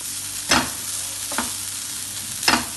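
Cinnamon, a small piece of star anise and half a spoon of black pepper fry in a pan for a chicken curry, with a low sizzle and three scraping stirs at intervals.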